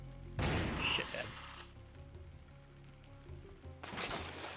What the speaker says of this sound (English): Firestorm cannon again.